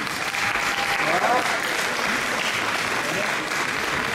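Spectators at a men's physique bodybuilding contest applaud the winner with a steady, full round of clapping that holds evenly throughout, a voice faintly audible beneath it.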